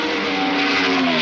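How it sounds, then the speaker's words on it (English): A 1966 Brabham BRM race car driven by Graham Hill, its engine roaring in a brief, steady, loud burst. "Graham Hill in a Brabham BRM."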